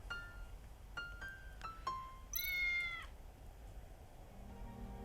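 A cartoon kitty in the game Tales of the Neon Sea gives several short, bright meows in quick succession, followed by one longer, drawn-out meow, all clear and alone over a quiet low hum.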